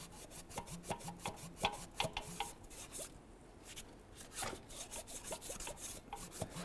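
Hand scrubbing of carbon buildup off the exhaust ports of a 2012-2017 Toyota rear exhaust manifold, a steady back-and-forth rasping rub repeated in quick close strokes with a brief pause midway.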